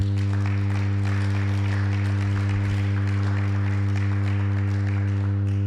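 A church congregation applauds and acclaims in a sustained, loud wash of clapping over a steady low hum.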